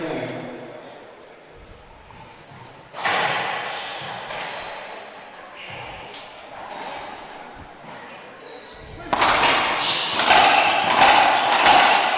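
Racquetball doubles match at the 2018 World Championships semifinal, Bolivia versus Mexico: a fast rally of sharp ball strikes and wall impacts echoing in an enclosed court, growing louder and denser toward the end, under crowd noise and commentary.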